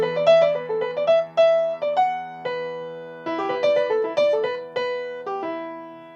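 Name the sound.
modal anthem melody in an E modal center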